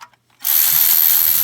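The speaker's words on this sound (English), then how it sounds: "Tell you what, Tony, we'd be here till 6 days from now if we didn't have this electric ratchet." A Milwaukee electric ratchet removing bolts during an oil pan replacement on a TDI Beetle: after a brief quiet moment, a loud, steady, whirring buzz with a bright hiss, close by and with no voices.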